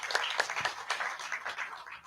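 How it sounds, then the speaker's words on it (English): At a building code stakeholder sensitisation session, a small group claps faintly. The claps are soft and uneven, sound somewhat distant, and fill about two seconds. "Let's give all the facilitators a hearty hand clap."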